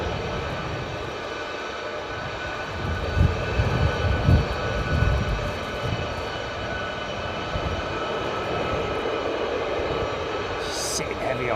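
Boeing C-17 military transport aircraft at RAF Lakenheath, a steady broad engine roar that swells slightly in the middle of the pass before holding level. The tone is continuous and fairly distant. No one speaks over it.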